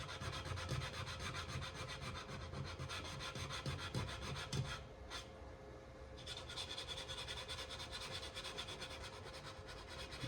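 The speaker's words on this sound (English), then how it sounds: "So I always like to stop and just sand with the grain on the bottom like this." Sandpaper is rubbed by hand along the grain across the bottom of a segmented maple and padauk wooden bowl. The close, steady scratchy strokes run continuously, with a brief pause in the middle, and no one speaks.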